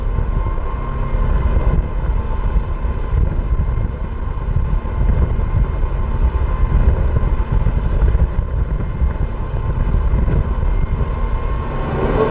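A loud, steady engine roar with heavy wind buffeting, an Aston Martin AM37 1040hp powerboat running hard at full power, with no voices.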